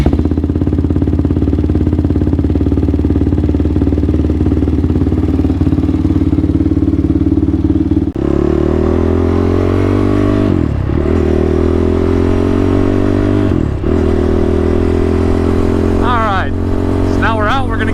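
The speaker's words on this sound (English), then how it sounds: "give this exhaust a little heat cycle and a sound check, because I love the sound of these" A Honda TRX ATV with a fresh exhaust idles with a deep, steady thrum, then revs and pulls away on a ride, the engine loud and close with gear changes and throttle blips.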